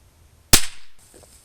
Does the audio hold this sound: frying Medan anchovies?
no